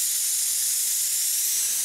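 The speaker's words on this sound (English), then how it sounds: "The gun has a 2mm tip, and I'm spraying the poly full strength" A spray gun with a 2mm tip lays full-strength, unthinned polyurethane finish onto cabinet doors, giving a steady, close, loud hiss of atomized spray that runs unbroken throughout.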